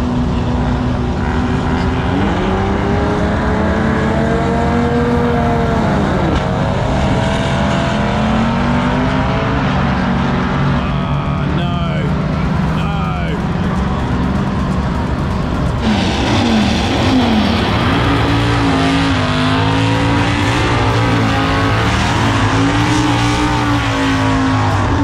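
A 2JZ-powered drag racing car makes a pass at Sydney Dragway, a loud continuous engine roar with rising and shifting pitch through the gears, sustained throughout with crowd and track ambience beneath.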